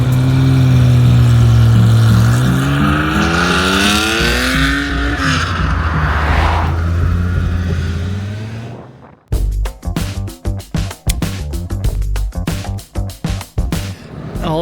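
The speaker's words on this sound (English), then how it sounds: "Now we're driving to lunch." A car on a road rally drive revs loudly with rising and falling engine pitch, then quiets into a run of sharp, irregular clattering knocks nearby.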